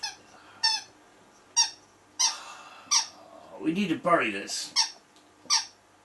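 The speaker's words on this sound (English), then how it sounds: "Sorry about my dog squeaking." A dog squeaks in short, sharp, repeated bursts, roughly every half-second to second, fairly loud and close, while someone talks over the middle stretch.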